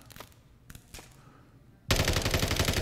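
Video game gunfire from Call of Duty-style Bare Bones Hurricane play: a few isolated shots, then a loud sustained rapid automatic burst near the end.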